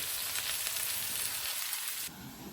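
Ingredients for noodles fry in a pan with a dense, steady hiss of sizzling that drops to a softer crackle near the end.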